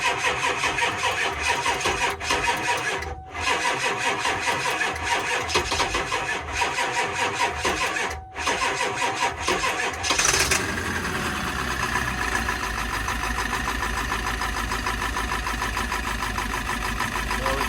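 A Ford 7.3 Powerstroke diesel engine with a possible exhaust leak cranks in clattering bursts with two brief pauses, then catches and settles into a loud, steady knocking idle.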